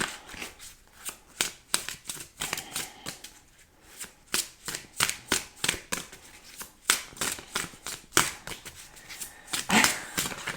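Tarot cards being shuffled by hand, a fast run of crisp riffling flicks and soft slaps repeating through the whole stretch, close and fairly quiet, with no voices.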